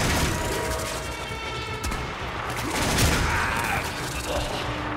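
Sustained rapid gunfire from the Boltor in the video game Warframe, a dense rattling fusillade with booming impacts, loud and continuous throughout.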